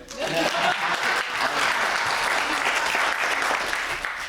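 Applause from a live improv theatre audience, steady and dense for the whole stretch, with a few voices mixed in near the start.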